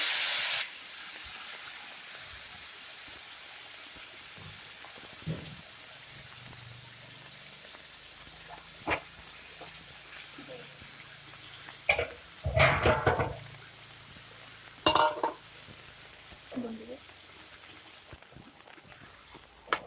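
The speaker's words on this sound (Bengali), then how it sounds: "এখন চিকেনটা ঢেলে দেবো" Raw chicken pieces tipped into a hot pan of oil, giving a loud burst of sizzle followed by intermittent clattering and spitting as they fry, with quieter frying hiss between the louder moments.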